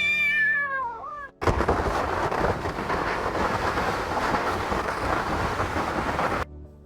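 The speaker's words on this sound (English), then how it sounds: "generate the sound of a cat meowing and the sound of raindrops falling on the roof" AI-generated sound effect of a cat meowing and raindrops falling on a roof: a short rising and falling meow, then a steady, loud wash of rain noise that continues for several seconds before stopping abruptly.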